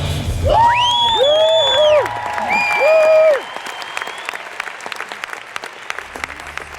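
A crowd at a Team Beachbody summit claps and cheers loudly, with whoops rising over steady applause that then thins out to scattered clapping.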